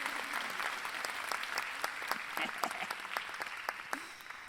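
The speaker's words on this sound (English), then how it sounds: "Give a round of applause to that college student" Audience applause at a women's leadership conference keynote, a sustained round of clapping from a crowd with distinct individual claps standing out, fading slightly at the end.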